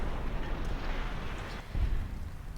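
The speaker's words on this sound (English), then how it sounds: "That explosion can be really quite dramatic sometimes." A spore plant bursts in the game Fallout New Vegas Old World Blues, a low rumbling blast with a dull whoosh rolling on for a couple of seconds, moderately loud, swelling again briefly near the end.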